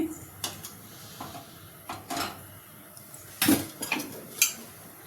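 Metal pot set down on a kitchen stove for frying eggs, several sharp clanks and scrapes of cookware at close range, spaced irregularly with quiet gaps between.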